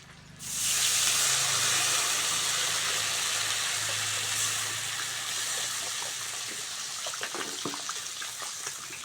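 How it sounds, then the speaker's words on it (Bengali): Water is poured into a hot pot of potatoes fried with salt and turmeric, setting off a loud, sudden rush of hissing steam and bubbling that stays steady and fades slightly, with faint stirring clicks toward the end. "এবার জল দিয়ে দেবো"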